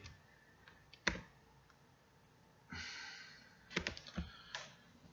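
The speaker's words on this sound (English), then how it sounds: "maybe I'll just type it out once and then edit it." Typing on a computer keyboard: irregular bursts of close key clicks, with one sharp louder stroke early on and denser clattering runs toward the end, no talking.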